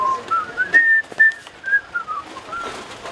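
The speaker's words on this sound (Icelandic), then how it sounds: "Og flauta með." A person whistles a lilting melody alone, the clear, close tune gliding up and down in short phrases with brief breaths between them.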